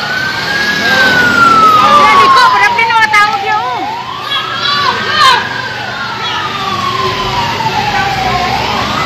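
Loud fire engine siren wailing in long rising and falling sweeps at a fire in Cagayan de Oro, Philippines, with voices and crowd noise around it.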